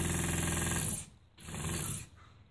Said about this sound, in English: Sounds a little stiff in the old motor region.